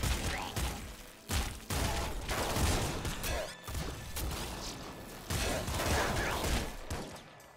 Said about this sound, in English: So I can just hold the plasma cannon